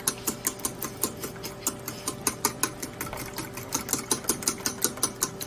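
An electric mixer whirs rhythmically in a bowl, its beaters clicking and knocking against the sides in a fast, even pulse of repeated strikes over a steady motor drone.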